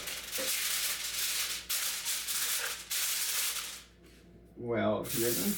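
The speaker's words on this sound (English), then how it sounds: "And now we put the canola oil, spray it on." A steady hiss of canola oil spray from an aerosol can runs in long bursts, pausing briefly between them, with a voice speaking near the end.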